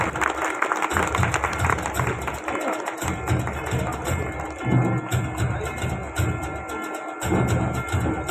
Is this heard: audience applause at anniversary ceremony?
yes